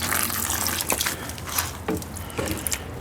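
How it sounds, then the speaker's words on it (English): Muddy water is poured and splashed through a gold-prospecting sluice while black sand is washed out, giving a steady, close rushing and gurgling with occasional louder sloshes. "I think I will grab a little bit of that muddy water and just see if we can't wash out what's the last bit of all this"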